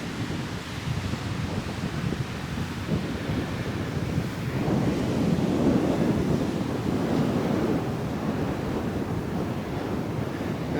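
Ocean surf washes onto a long beach in a steady broad roar that swells slightly, mixed with wind buffeting the microphone.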